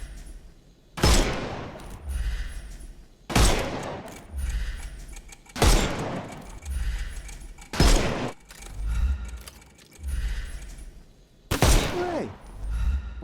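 Gunfire rings out in the video game Sherlock Holmes Chapter One: five loud, sharp shots spaced about two seconds apart, each trailing into a rumbling decay, with faint background texture between them.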